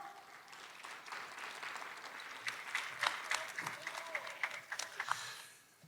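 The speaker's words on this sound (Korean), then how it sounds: "여러분 큰 박수로 맞이해 주십시오." An audience at the opening ceremony of the 2021 Korea Innovation Fair claps to welcome the mayor of Ulsan, building into steady, moderately loud applause with crisp individual claps before fading out.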